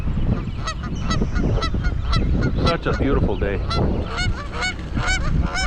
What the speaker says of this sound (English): It's a whole flock of geese.